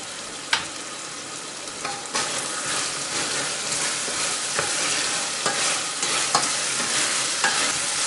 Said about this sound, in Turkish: İçerisine yemeklik doğradığımız kuru soğanı ilave edelim ve 2-3 dakika daha kavuralım.